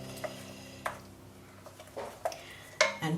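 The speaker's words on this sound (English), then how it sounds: "Stir it" A spoon stirs berry jam in a pot, giving scattered knocks and scrapes against the metal, some sharp and ringing, heard close and fairly quiet with no talking.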